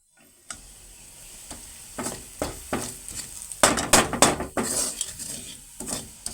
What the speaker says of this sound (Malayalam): ഞാൻ വെറുതെ കുറച്ച് കടുകൊക്കെ പൊട്ടിച്ചിട്ട് ഒന്ന് സിമ്പിളായിട്ടാണ് കേട്ടോ ചെയ്യണത്